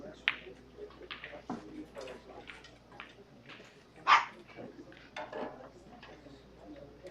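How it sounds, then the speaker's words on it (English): A small Chihuahua barks in the background, several short faint yips spread across the stretch, with one louder bark near the middle, over quiet room noise. "So my co-commentator is my little Chihuahua dog"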